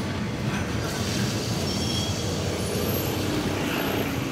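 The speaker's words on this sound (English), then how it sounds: "Tram." A tram runs along its rails past a small shed, giving a steady, continuous rumble with rolling noise that stays fairly close and even throughout, with no talk over it.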